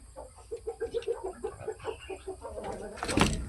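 Eight-month-old fighting cocks give a run of short, rhythmic clucks close by, about a dozen pulses in quick succession, followed by a louder rustle or flutter near the end.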